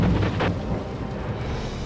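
Heavy rain pounding down in the Fraser Valley of British Columbia, a dense, roaring wash with low rumbles, close and steady for the whole stretch without talk.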